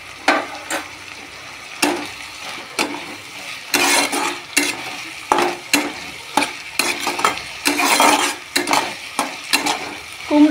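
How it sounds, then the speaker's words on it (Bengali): Pumpkin greens are stirred with spices in a pan, giving repeated scraping, rustling bursts over a soft sizzle, close and fairly loud with short pauses between strokes. "মশলার সঙ্গে একটু ভালো করে নাড়াচাড়া করে কষে নেব।"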